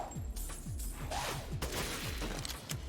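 Rapid gunfire in a castle-level video game, including sniper shots, a dense burst of repeated cracks and booms with falling tonal tails over almost three seconds, quiet and without voices.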